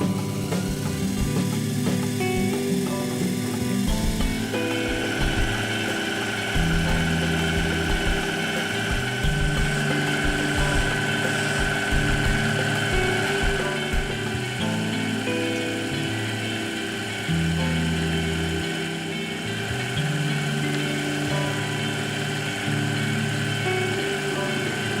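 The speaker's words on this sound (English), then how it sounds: "another great excuse to bring out the T-rest and do a little hand turning" A metal lathe runs steadily while screw ends are hand-turned with a T-rest, a constant whirring hum with shifting tonal drones and no talking.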